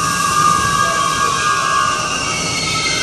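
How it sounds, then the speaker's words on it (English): A southbound train passes in Miami with a steady, loud roar of wheels and rail noise that holds level throughout, with a high metallic hiss over a broad rumble. "Southbound train."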